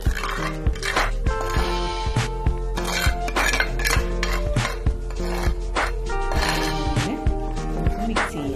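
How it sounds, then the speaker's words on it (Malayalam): Thick buttermilk curry (moru curry) stirred in a pot, a busy series of close metallic scrapes, clinks and knocks of a utensil against the pot, with a faint voice in the background. "പിരിഞ്ഞു പോകാതിരിക്കാനായിട്ട് നമുക്ക് കുറച്ച് നേരം അത് ഇളക്കി കൊടുത്തുകൊണ്ടിരിക്കാം."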